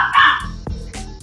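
A dog, a lilac tan being offered for rehoming, gives a single short close bark that turns into a yelping whine, with a murmur of people and background noise underneath.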